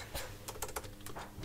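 Typing on a Mac keyboard, a quick irregular run of light key clicks, close up and fairly quiet.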